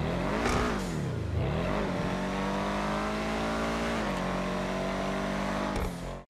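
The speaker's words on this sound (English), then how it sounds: "I think the Schlagen's got that great sound" A Schlagen sports car engine in GTA Online revs hard, pitch dipping and climbing through quick shifts before a long, steady high-rpm drone, cutting off abruptly at the end.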